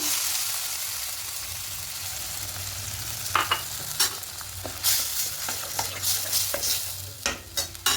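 Yogurt and ground spice paste hit a hot frying pan for egg kosha, giving a steady close sizzle with scraping stir strokes that grow busier and more rhythmic in the second half.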